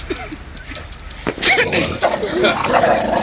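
A pet dog barks and yips close by in a home, short bursts over about three seconds, with a person talking around it.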